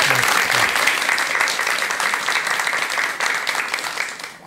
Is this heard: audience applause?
yes